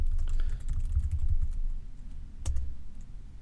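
A few quick keystrokes on a computer keyboard, close and clear, followed by a single firmer key press, with no voices.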